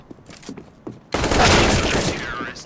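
Gunfire on the Vertigo map in a competitive shooter, a dense loud burst of shots that erupts after a second of quieter game sounds and murmured talk, continuing to the end.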